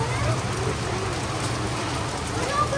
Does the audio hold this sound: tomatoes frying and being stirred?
no